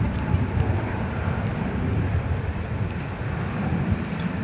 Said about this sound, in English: let's watch an Air Canada flight come in, shall we?